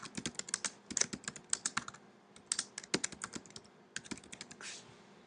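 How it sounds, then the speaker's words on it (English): Typing on a computer keyboard while filling in an online form, with bursts of quick, close clicking keystrokes separated by short pauses. "And I'm going to type that in."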